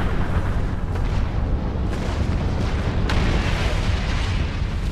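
Turret explosions boom continuously in a Star Trek Online space battle, a dense, loud, rumbling wash of blasts with sharper bursts near the two- and three-second marks.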